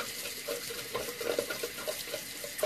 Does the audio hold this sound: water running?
yes